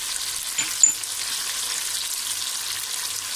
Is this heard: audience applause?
no